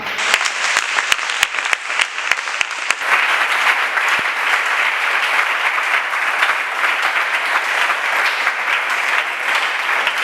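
Congregation applauding during a French-language church service, with a few sharp individual claps at the start that swell into steady, dense clapping filling the room for about ten seconds.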